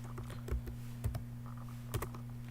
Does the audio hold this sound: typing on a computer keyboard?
yes